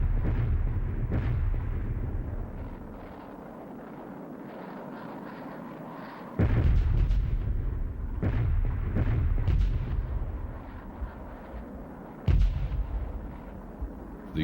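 Bombs dropped by bomber cells over Khe Sanh explode in a continuous rumbling barrage, with heavy low booms and sharper blasts at intervals over a sustained roar.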